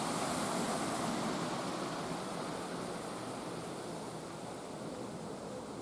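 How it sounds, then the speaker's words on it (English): The River Cuckmere flows past a preserved old mill wheel, a steady broadband rushing of water, close and even, with no voices. "there the river flows onwards on its journey towards the sea"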